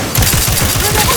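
Rapid automatic gunfire in the video game The Outer Worlds 2 sounds as a loud, close, continuous burst of shots.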